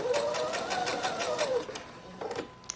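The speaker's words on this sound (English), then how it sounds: "still sewing about a 1/4 inch seam allowance" A sewing machine stitching a fabric seam, its rapid needle clatter running steadily and close for over a second before slowing, followed by a brief second burst of stitching.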